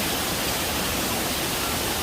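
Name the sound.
waterfall heard along a forest trail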